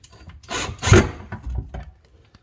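Short mechanical clicks and ratcheting rattles of screws being tightened on a filter bracket during a water filtration system installation, close and moderately loud with a brief burst in the middle.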